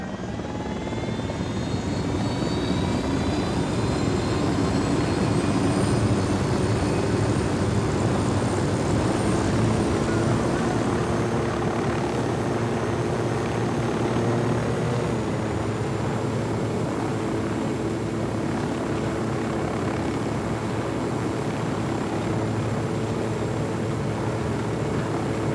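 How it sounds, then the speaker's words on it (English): A helicopter drones steadily and loudly throughout, a constant rotor and engine roar in the Ghost Recon Wildlands video game, with no voices over it. "Don't need that chopper."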